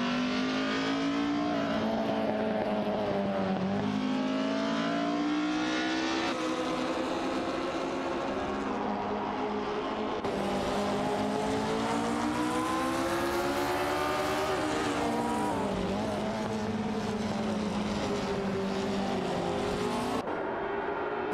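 Race cars in a racing game, including a Matra MS7 and a Technopass 68, with engines revving and droning continuously as they battle and pass, loud and sustained with rising and falling pitch.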